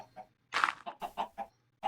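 A chicken in a blocky survival video game gives a quick run of clucks, five or six short rhythmic bursts with one louder squawk early on, alone and fairly faint.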